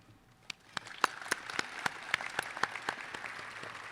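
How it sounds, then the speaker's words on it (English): Graduation ceremony audience clapping, heard as sparse, distinct individual claps spaced out over about four seconds, fairly faint and distant in a large hall, with no voices. "recognize them with a round of applause"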